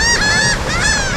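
Geese or similar fowl honking loudly and close at a Fort De Soto boat ramp, two drawn-out nasal honks with nothing else heard.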